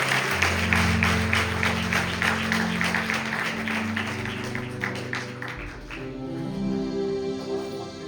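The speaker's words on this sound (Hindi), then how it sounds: "आइए एक बार जोरदार ताली प्रभु यीशु मसीह के लिए बजाएं" A church congregation claps loudly together in praise during a Christian service, the dense applause filling the first half and then thinning out under lingering music and voices.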